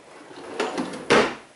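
A hotel room drawer slides open or shut, with a soft rolling scrape followed by a sharper wooden knock, close by and alone.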